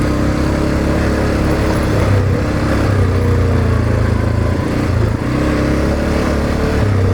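Segway AT5L off-road quad riding along a green lane, its motor droning steadily and loud throughout, with rumbling tyre and terrain noise and no talking.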